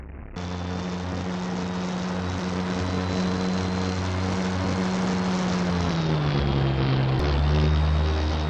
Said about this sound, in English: Powered by two valveless pulse jet engines, which produce 400 pounds of thrust each